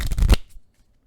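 A deck of cards riffle-shuffled at a tabletop board game session, one quick close crisp burst of flicking cards lasting about a third of a second, then quiet.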